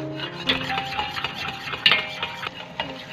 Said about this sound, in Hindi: चम्मच बिल्कुल चलाते ही रहना है, स्टॉप नहीं करना